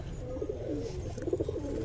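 A pigeon sitting on eggs gives soft, low, throaty coos twice in close succession over a quiet hum of background noise.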